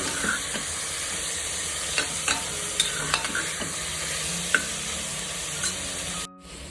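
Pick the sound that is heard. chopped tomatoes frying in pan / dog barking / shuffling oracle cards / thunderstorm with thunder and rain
chopped tomatoes frying in pan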